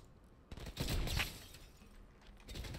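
Gunfire in a video game shooter, a sniper shot amid a burst of muffled shots and rumbling booms that swell in the middle and then trail off into steady background noise.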